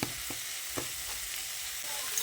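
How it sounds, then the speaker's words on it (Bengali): Soybean and potato curry sizzles in a pan as it is stir-fried with salt, a soft continuous frying hiss broken by a few light scraping stirs. "সয়াবিন আলুটাকে কষাতে কষাতে এর মধ্যে আমি আরও একটু নুন দিয়ে দিচ্ছি"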